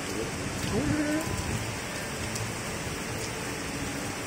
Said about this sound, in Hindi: बारिश ना बहुत तेज हो रही है